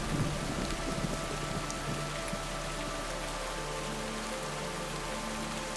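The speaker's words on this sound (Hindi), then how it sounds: "जंगल में बहुत तेज बारिश हो रही थी।" Heavy rain pours steadily through a jungle, a dense, continuous hiss of drops on leaves and surfaces with faint low rumbling beneath, loud and unbroken throughout.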